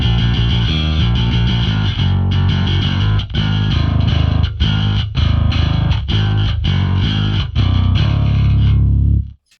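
Bass guitar played through the Seismic Bass amp plugin with a blend of a 4x10 and a 1x15 cab, thick driven tone with sustained notes and short gaps between phrases, loud and close, no voices.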